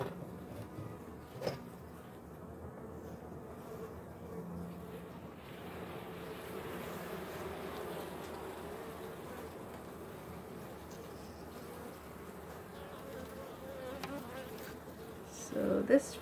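Honeybees buzz steadily around an open hive while frames of capped worker brood are lifted out, a soft continuous drone with brief handling knocks near the end.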